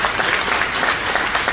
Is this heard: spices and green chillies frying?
no